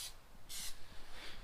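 Aerosol can spraying a transparent coat of Plasti Dip rubber coating onto a car or truck interior, with three short hissing bursts, the middle one longest, at close range, without talk.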